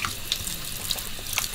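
Water running from a tap over blanched pork belly being rinsed, a steady close splashing stream with brief louder spatters.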